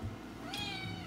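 A cat gives a single clear, fairly close meow midway through a quiet indoor moment, with faint room noise around it.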